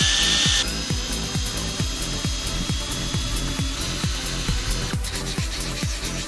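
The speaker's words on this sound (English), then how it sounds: "I know where I'm drilling through to actually put the legs on" A power drill bores steadily into wood with a rhythmic, grinding chatter, close and loud, running continuously without any voices.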